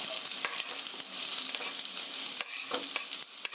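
Sliced onion and garlic sizzling in hot oil in a pan, a loud, dense, continuous crackle with scattered spattering pops and occasional stirring scrapes, up close.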